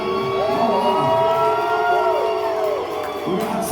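A live arena crowd at Daly's Place cheers and shouts, with high whoops and sustained yelling voices rising and falling over a dense roar of noise.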